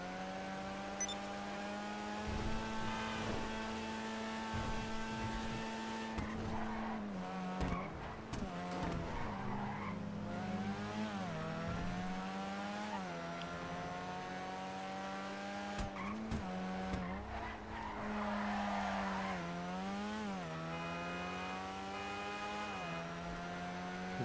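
A car in the video game GTA 5 Online drives with its engine humming steadily while tires squeal in repeated skids and swerves, a continuous sound without talk.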